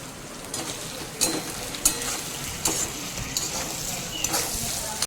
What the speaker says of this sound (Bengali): এরপর দিয়ে দিচ্ছি কুচিয়ে রাখা ক্যাপসিকাম, আর তার সাথে দিয়ে দিচ্ছি কাঁচা লঙ্কা।